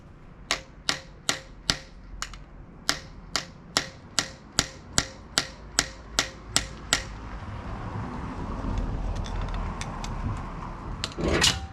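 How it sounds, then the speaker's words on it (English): Screwdriver pounded with sharp, regular metallic blows, about sixteen evenly spaced strikes close by, during a radial drill press restoration, followed by a few seconds of quieter rustling and fiddling with one last knock. "a screwdriver I could pound on here."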